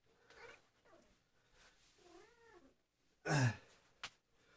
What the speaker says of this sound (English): This cat is crazy. I hope you can hear this.